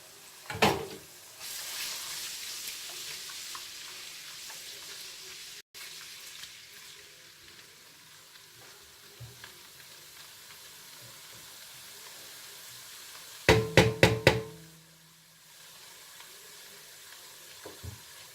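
Ginger paste hits a hot pan for a vegetable fried rice, giving a steady hiss of frying that runs for most of the stretch, with a sharp burst of clattering and sizzle near the end, then quieter cooking.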